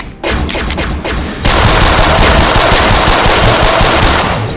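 Sustained automatic gunfire in the video game The World of the Others, loud and close, with a few separate shots first and then a dense, continuous burst of rapid fire with no talk.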